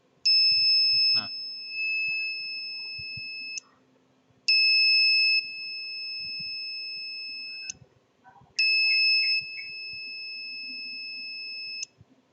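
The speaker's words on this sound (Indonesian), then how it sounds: "jadi ketika seseorang menyentuh pagar atau gagang pintu rumah, maka buzzer dan LED akan menjadi aktif." A touch-sensor home security alarm buzzer sounds three times in long, steady, piercing electronic tones. Each lasts about three seconds, with short gaps between them, and the tones are loud and close.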